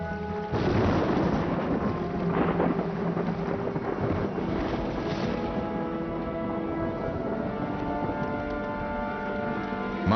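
Deep rolling thunder with a steady rushing roar like heavy storm and rain, evoking a thunderstorm over a vast underground ocean lit by lightning, continuous and loud throughout with no voices.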